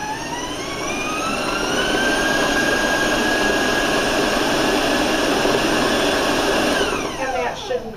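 An electric stand mixer beats chocolate cake batter for a skillet cake at higher speed, its motor whining steadily and loudly, with the pitch climbing as the speed increases before it winds down near the end.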